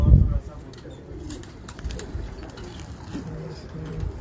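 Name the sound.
cooing of a Chuha breed pigeon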